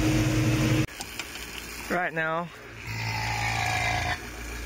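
A vacuum pump draws down an air conditioner's lines during a vacuum test, a loud low droning hum that cuts out abruptly, then returns as a quieter steady drone after someone speaks briefly.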